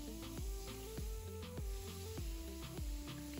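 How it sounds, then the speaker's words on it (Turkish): Soda water poured over yufka börek gives a soft, quiet fizzing hiss with a series of light splashing pulses, heard alone. "şöyle üzerine sodalarımızı döküyorum."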